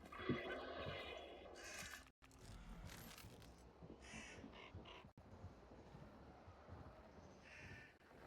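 Crows in the game Hunt: Showdown caw harshly in a short burst near the start, followed by scraping and rustling gameplay noises and brief dropouts, all fairly quiet.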